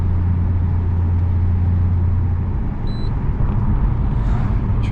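Steady, busy morning road traffic: a continuous low rumble of passing cars with a heavier vehicle drone, loud and close throughout, no talk.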